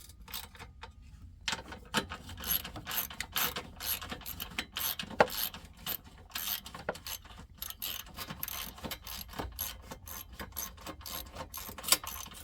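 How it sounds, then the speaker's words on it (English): A ratchet clicks rapidly in repeated bursts while bolts are tightened on a 2013 Honda Accord, the fast pawl clatter coming in short strokes with brief pauses, close and fairly quiet, without speech. "We're going to finish tightening the bolts."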